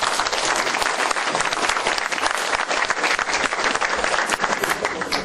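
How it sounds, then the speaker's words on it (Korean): Sustained, dense audience applause at a ceremony installing a women's volunteer fire brigade captain, honoring two brigade captains; steady and loud throughout with no pauses. "우리 두 대장님한테 한번 박수 한번 보내주세요"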